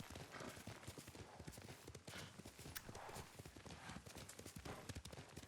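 Horse hooves clip-clop in the video game Ghost of Tsushima, a faint, quick run of steady hoofbeats heard alone throughout.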